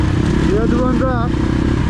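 A Yamaha YZ dirt bike running without its silencer gives a loud, raw, crackling engine roar up close, with a voice rising over it partway through.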